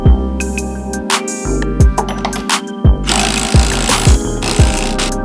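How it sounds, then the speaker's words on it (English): An impact wrench tightens suspension bolts on a vehicle in repeated short, loud bursts of rapid hammering with brief pauses between, accompanied by metallic clatter, close up with no talking. "I gotta try it with the impact at least one time"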